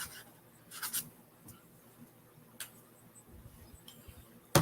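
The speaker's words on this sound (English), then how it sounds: "I guess I'll write my own name." A glittery paint pen scratches out a name on paper in short, quiet strokes with small pauses between them, close up and without talking.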